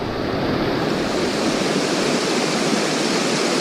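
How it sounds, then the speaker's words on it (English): Water rushing over a hiking trail crossing near Owl's Head, a loud, close, unbroken roar of flowing stream with no voices. "All right, here's another water crossing."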